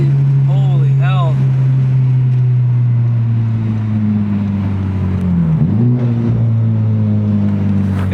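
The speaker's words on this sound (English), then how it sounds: "Yeah, the turbo sounds different now." Honda Civic Type-R engine with its turbo running after a Flashpro tune, a loud steady drone that dips and rises again near the middle, with rising whistle-like tones early and voices talking over it inside the car.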